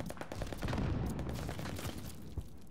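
Rapid automatic AS VAL rifle fire in Call of Duty: Vanguard, a dense, continuous stream of loud suppressed shots layered with game effects, with no pauses across the burst.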